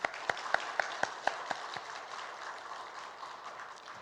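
Scattered, sparse claps from a church congregation during a Sunday service in a large echoing room, a few distinct hand claps standing out before fading into a soft wash.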